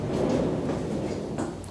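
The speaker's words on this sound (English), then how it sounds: "But you got your barn door right here" A sliding barn door in a tiny house rolls along its track in one continuous rumbling slide, close and fairly loud, ending with a light knock.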